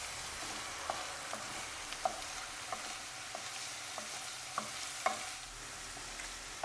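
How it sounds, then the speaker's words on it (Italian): Soffritto with cooked peas stirred and frying in a pan, a steady soft sizzle under a series of light, regular spoon scrapes and taps against the pan. "al soffritto aggiungo dei piselli già cotti e continuo ancora per qualche altro minuto la cottura."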